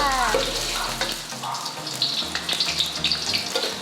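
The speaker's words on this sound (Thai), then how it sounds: "อันดับแรกก็คือเราทอดขิงก่อน" Ginger slices frying in oil in a Thai home kitchen, with a steady bubbling sizzle that picks up crackly pops as it goes on, while someone talks over it.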